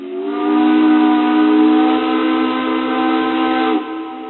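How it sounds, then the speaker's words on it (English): A loud factory steam whistle in Georgetown blows a steady, multi-toned blast for nearly four seconds before cutting off abruptly, leaving a short fading tail; no voices. "When the factory whistle went off, it was really loud."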